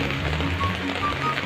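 Rain falling steadily during a first-day-of-class walk near the Pacific Ocean, a dense continuous hiss with no breaks and no voices.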